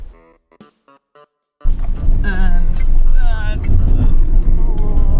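A Fiat Panda 4x4 engine roars and revs on a dusty off-road track after a quiet start. The engine noise is loud and close, with wind buffeting and people talking over it.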